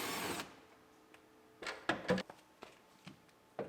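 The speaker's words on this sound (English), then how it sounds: "And we can unbolt our taillight." A power tool unbolting the taillight of a wrecked, high-mileage Honda Civic: an opening whir, then several short, sharp ratcheting bursts and clicks with pauses between, fairly close and moderately loud.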